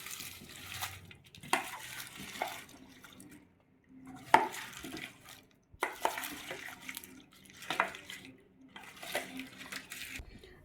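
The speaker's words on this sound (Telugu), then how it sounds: "ఇప్పుడు దీన్ని అయితే మనం నెమ్మదిగా కలిపేసుకుందాము." Cauliflower pickle with tempering stirred in a bowl, intermittent scraping and clinking bursts of a spoon against the bowl, close and moderately quiet, separated by short pauses with a voice talking.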